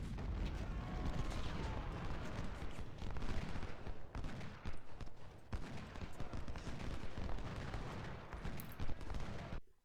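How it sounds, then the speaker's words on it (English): Infantry units trading fire in a Civil War battle game at Gaines' Mill, a dense, continuous crackle of rifle volleys and booming artillery rolling on for the whole stretch, loud and layered with no pauses. "they're opening fire on my units"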